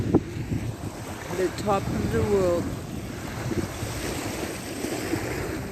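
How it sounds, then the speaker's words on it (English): Wind and sea waves on the Bering Sea near Utqiagvik, Alaska, a steady broadband rush with wind buffeting the microphone, while someone talks briefly over it. "The beautiful Bering Sea."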